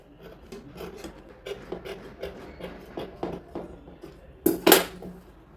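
Scissors make a series of small snips in kurti fabric, giving soft, rapid cutting sounds close by, with a louder rustle of cloth near the end.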